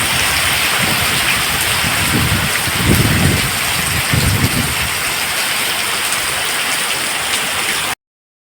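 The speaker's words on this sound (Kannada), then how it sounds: "ಜೋರು ಕಾಳಿ ಮಳೆ ನಮಗೀಗ" Heavy rain pouring down, a dense, steady hiss of drops on surfaces with a slightly stronger low patter in the middle, continuous and close before cutting off abruptly.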